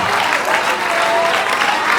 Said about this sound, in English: Please, let's give a round of applause to Mr. Awotula.